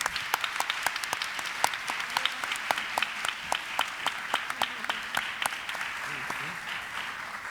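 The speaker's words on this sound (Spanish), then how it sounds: "me gustaría pedir un fuerte aplauso para Juan Carlos Maneglia y Tana Shembori." A symposium audience applauds steadily, with sharp individual claps standing out from a dense wash of clapping, heard from within the audience.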